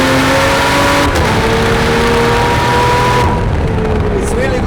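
Pagani Utopia engine driven hard, a loud sustained mechanical roar with shifting engine tones under steady road and wind noise, a voice speaking over it.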